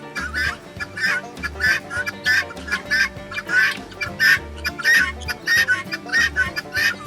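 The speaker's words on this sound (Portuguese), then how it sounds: "Esse som emitido pelas galinhas da Angola, geralmente é quando elas veem algo estranho." Guinea fowl sound their alarm, a string of harsh, rasping calls repeated in a steady chattering rhythm, loud and close, with no talk over them.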